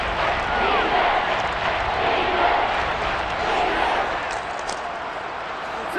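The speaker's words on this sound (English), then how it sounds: "the crowd getting into it as we come up on a big 3rd down" A crowd roars and cheers steadily in a Madden video game football match between the Rams and Saints, building ahead of a big third down; a dense, continuous stadium wash with no talk over it.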